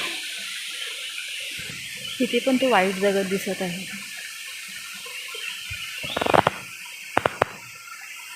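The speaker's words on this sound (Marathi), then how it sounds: "हा पाणी आता ओव्हरफ्लो होऊन असा येत आहे इकडे" Spring water overflowing and running over stones outdoors makes a steady rushing wash beneath a person talking.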